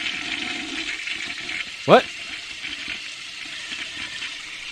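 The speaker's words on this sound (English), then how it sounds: "I heard my toilet flush." Toilet flushing in a home, a steady rushing wash of water lasting several seconds behind a podcast conversation, with one short spoken word partway through.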